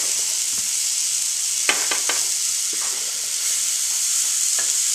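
Food frying gently in a pan for a SeaNanner pudding while wine cooks alongside, a steady soft sizzle with a few sharp stirring scrapes and clinks partway through, close and without talk.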